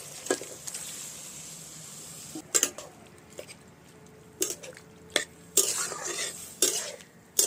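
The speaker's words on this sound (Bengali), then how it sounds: "এবার পুঁই শাকটা দিয়ে দিচ্ছি।" Malabar spinach being stirred into a pan with fried onion and prawns, heard as scattered spatula scrapes and clanks against metal over a faint low sizzle, close by and with no talking.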